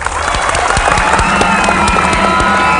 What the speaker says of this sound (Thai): ปรบมือเป็นกำลังใจให้เปี๊ยกหน่อยครับ